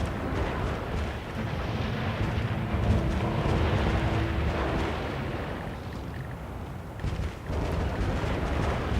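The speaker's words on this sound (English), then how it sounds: "we'll destroy buildings." Buildings being demolished in the SimCity video game: a steady, dense rumble of crumbling and booming destruction that fills the whole stretch at fairly constant loudness, with a brief dip near the end.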